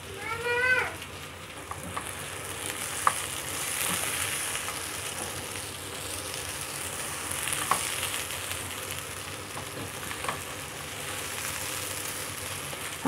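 Rice with garlic fries in a pan, making a steady soft sizzle broken by occasional scraping taps of stirring, with a few brief higher tones near the start, all at low, even volume.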